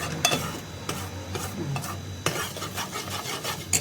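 Flour lightly browning in a pan while being stirred, a soft sizzle under repeated scraping and clinking strokes of a utensil against the pan, close and steady.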